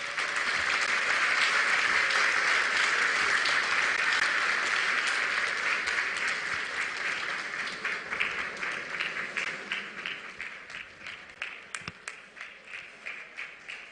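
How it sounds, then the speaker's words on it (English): Applause from an audience at a youth dialogue event in Cape Coast, Ghana, honouring Finance Minister Kenneth Ofori Atta: a dense, loud sustained clapping wash that thins into scattered individual claps toward the end. "let's hear a warm Cape Coast round of applause for Honorable Kenneth Nanayao Ofori Atta"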